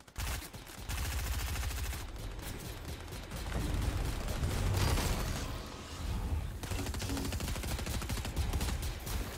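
Sustained bursts of rapid gunfire and blaster-like fusillades in a Star Wars video game, loud and dense across the whole stretch with brief lulls, no talk over it.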